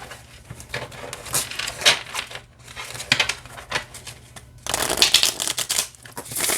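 A Temu dupe deck of playing cards is shuffled by hand at close range, giving several quick riffling bursts with short pauses between them.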